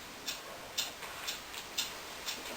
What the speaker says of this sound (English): is that mysterious ticking noise?